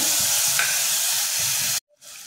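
Curry leaves and half a tomato sautéing in a hot pan, a steady loud sizzle with soft stirring scrapes that cuts off abruptly near the end, then a quieter hiss resumes.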